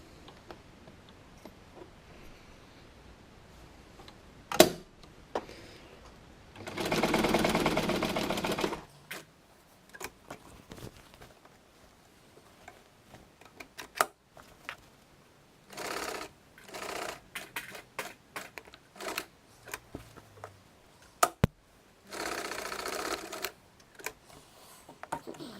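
Sewing machine stitching a dart bag, quiet with short bursts of rapid mechanical stitching, one longer run near the start and several choppy runs later, interspersed with clicks and handling.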